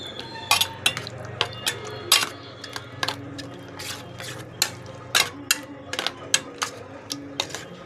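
A spoon stirs a curd and buttermilk mixture with chopped raw onion in a bowl, giving a run of sharp, irregular clinks and scrapes against the vessel over a soft background hum, with no voices.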